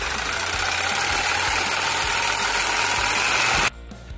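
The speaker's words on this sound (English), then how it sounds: "Gonna use a scroll saw and a jigsaw. Cut out all the letters individually." A scroll saw or jigsaw cuts quarter-inch MDF letters with a steady, buzzing, rapidly pulsing drone close by, then stops abruptly near the end.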